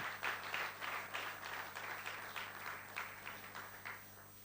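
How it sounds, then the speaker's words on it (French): Applause from a church congregation during a sermon, moderately distant and steady, with scattered claps blending into a continuous wash that rises and falls over several seconds. "Acclamez très fort pour la gloire de Dieu."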